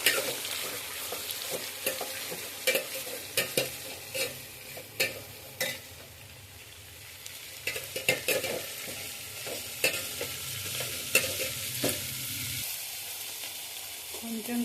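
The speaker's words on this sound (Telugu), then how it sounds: "ఇవన్నీ బాగా ఫ్రై చేసుకోవాలి" Green chillies frying in a pan with steady, soft sizzling underneath and repeated sharp scrapes and taps of a spoon stirring against the pan at irregular intervals.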